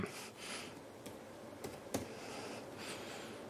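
Typing on a laptop keyboard to send text to a Samsung phone, a few soft scattered key clicks with small pauses between them, quiet and close.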